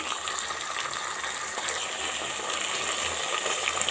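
About half a cup of water goes into a cooking pot of peas for keema vegetable rice, giving a soft, continuous splashing gush at low level, with no one speaking.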